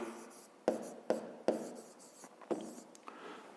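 Pen or pencil writing numbers for a fifth-grade maths exercise, a handful of sharp taps and short scratching strokes against paper, close and quiet, with no one talking.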